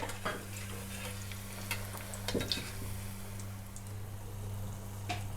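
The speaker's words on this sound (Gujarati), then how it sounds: "હવે સમોસાને તળી લઈશું." Samosas deep-frying in oil that is kept only moderately hot, giving a steady low bubbling sizzle with a few soft clinks and stirring scrapes close by.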